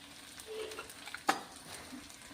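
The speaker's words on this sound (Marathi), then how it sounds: "इथे बघा आता हे सगळे मसाले आपल्याला व्यवस्थित तेलामध्ये परतून घ्यायचे आहेत." Sambar spices frying in a little oil make a soft, low sizzle, with light stirring scrapes and one sharp clink of a spoon against the pan partway through.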